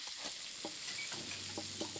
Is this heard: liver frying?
yes